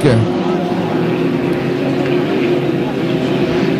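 Racing motorboats of the 1.5-litre class in a heat at St-Félicien roar steadily at close range, a loud continuous engine drone with a commentator talking over it.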